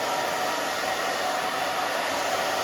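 A hair dryer blows steadily and loudly at close range while drying a short pixie cut with full bangs, a constant airy roar with no breaks.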